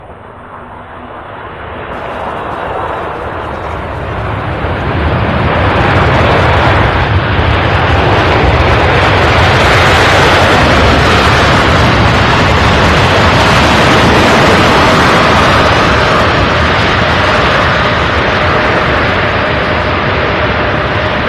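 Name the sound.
airplane taking off at Louisville International Airport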